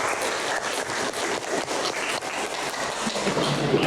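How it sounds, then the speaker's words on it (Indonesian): Classroom applause for a student after an accounting lesson, a steady broadband patter of many hands clapping throughout, fairly loud and continuous with no talk over it. "Tepuk tangan untuk Mbak Isa"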